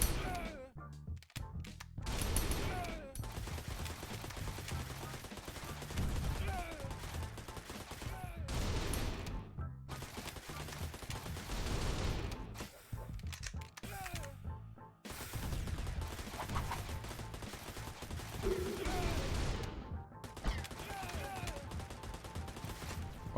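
Rapid gunfire in a co-op third-person tower defence game: long dense bursts of shots with crashes and impacts, broken by short pauses, loud and continuous throughout.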